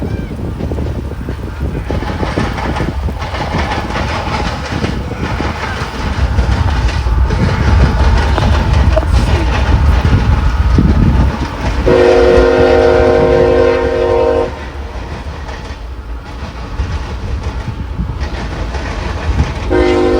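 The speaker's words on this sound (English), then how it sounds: "a meet was in store for the spectators between the E601 and a westbound mixed freight train" Union Pacific 4014 steam locomotive meeting a westbound mixed freight train before a cheering crowd, loud rumbling rail cars and clattering wheels up close, with a long horn blast partway through and a short one at the end.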